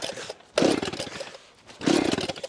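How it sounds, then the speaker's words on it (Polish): A chainsaw started while held up in the air out in the woods, its engine roaring up loudly in two close bursts with a brief dip between them. "Musi zapalić piłę w powietrzu."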